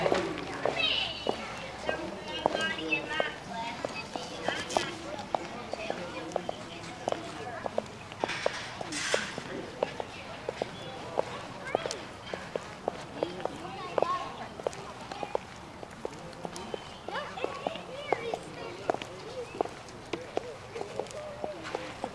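Horses walk at the Remington Park racetrack in Oklahoma, hooves clip-clopping in an irregular series of sharp knocks throughout, with people talking nearby over the steps.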